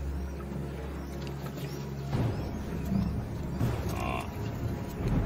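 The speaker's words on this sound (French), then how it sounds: "Les buffles se rapprochent une nouvelle fois." A herd of African buffalo approaching on the savanna, heard as low rumbling hoofbeats and grunting moos that thicken midway into a dense, close mass of movement.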